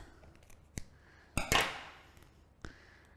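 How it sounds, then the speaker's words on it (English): Scissors snip the netting off a frozen 500-gram lobster: a few sharp, close clicks and cuts spaced apart, with one louder crunching cut in the middle, no talk. "what you want to do is you want to cut off the netting"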